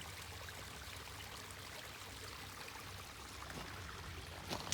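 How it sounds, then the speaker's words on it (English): A small brook running through rural property gives a steady, soft trickling and babbling of water, faint and unbroken, with a small splash near the end. "it still sounds cool that we got a nice little brook running through our property"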